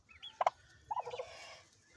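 Ten-day-old chicks peep in a few faint, short bursts close by, with quiet gaps between the calls and no talking.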